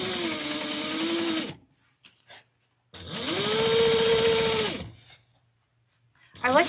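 A sewing machine back stitches a 1/2-inch seam through two layers of fabric placed right sides together, running in two close, steady bursts of whirring with brief quiet pauses between and after them.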